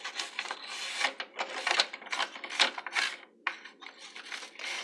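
Dust is wiped and rubbed off an old HP Compaq desktop PC in short, quiet, uneven strokes, a soft scratchy brushing with brief pauses between passes.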